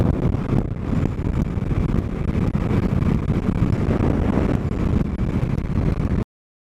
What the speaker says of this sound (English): Still windy as hell.